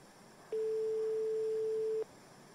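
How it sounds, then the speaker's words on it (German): A phone ringing tone in Euro Truck Simulator 2: one steady mid-pitched tone lasting about a second and a half, clear over quiet background noise, with nothing else around it. "Es klingelt."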